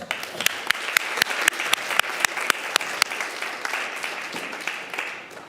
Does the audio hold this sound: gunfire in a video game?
no